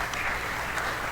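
An audience at a maths quiz final breaks into brief, dense applause for a quiz team, a steady wash of clapping heard for just over a second.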